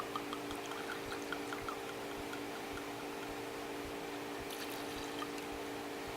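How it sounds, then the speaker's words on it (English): Michter's straight Kentucky bourbon poured into a cocktail glass for an Old Fashioned, a quiet, steady trickle of liquid running for several seconds over a low background hum, with faint drips near the end. "we're going to use 2 ounces or 60 mils of this bourbon"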